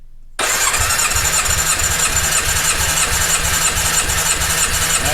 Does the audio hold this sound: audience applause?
no